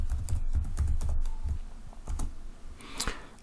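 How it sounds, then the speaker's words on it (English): Fast, uneven keystrokes clatter on a computer keyboard, close and crisp, with bursts of clicks and brief pauses and no voices. "So let's type that in, property services."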